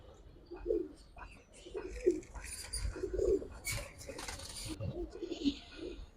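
Giribaz and racer pigeons, including a silver Pankhi male, coo in repeated low throaty phrases about once a second. Faint chirps and soft rustling sit underneath the calls.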